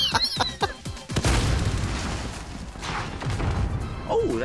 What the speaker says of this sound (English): Oh, that's a rocket.